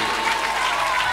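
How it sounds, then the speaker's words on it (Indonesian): Audience applause for Bu Suherti at a lively gathering, a dense, steady wash of clapping hands from a crowd, loud and continuous throughout with no gaps. "Ya udah, tepuk tangan untuk Bu Suherti."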